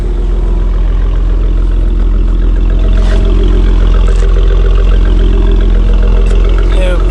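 A car engine runs steadily after a new upper and lower manifold, 80mm throttle body and coil packs were installed, a loud continuous low rumble with slight irregular popping, recorded close by.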